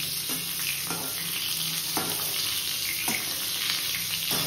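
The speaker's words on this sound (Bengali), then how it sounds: "এক রাউন্ডের পটল ভাজা হচ্ছে।" Pointed gourd (potol) slices fry in a pan with a steady hiss and crackle, broken every second or so by soft scraping stirs of a spatula, close and continuous without any talking.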